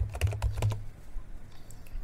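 Quick burst of typing on an HP laptop keyboard, several crisp close keystrokes in the first moment, then only faint room hum.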